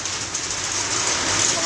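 Heavy rain pours steadily in Udhampur amid cold wind, a continuous dense hiss with no breaks, loud and close throughout.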